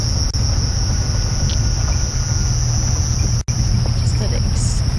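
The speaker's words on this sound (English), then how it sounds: "can you hear the cicadas?" Cicadas on an evening safari drive keep up a loud, continuous high-pitched electronic whine throughout, over a low rumble of the moving vehicle, with a faint voice briefly under the noise.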